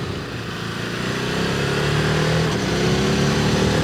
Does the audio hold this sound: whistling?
no